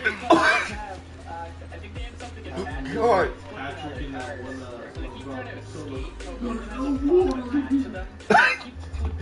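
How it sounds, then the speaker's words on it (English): A person gives a few separate coughs and throat-clearing bursts, spaced several seconds apart and fairly close, with speech continuing between them during a casual gaming session. "You just hear coughing."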